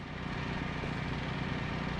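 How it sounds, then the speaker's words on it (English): Generator running in the video game What Remains of Edith Finch: a constant, dense mechanical drone with a low throbbing pulse, steady and unbroken. "There's a generator going or something."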